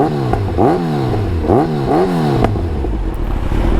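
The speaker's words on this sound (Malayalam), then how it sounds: "ഈ ഒരു എക്സോസിൻ്റെ സൗണ്ടും നിങ്ങൾക്ക് ഞാൻ കേൾപ്പിച്ചു തരാം" Motorcycle fitted with a Black Widow full system exhaust revs repeatedly, rising and falling in three or four sharp throttle blips over a low rumbling idle, close and loud.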